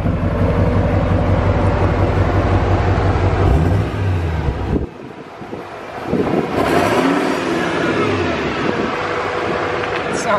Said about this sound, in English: I can't wait to hear this turbo start spooling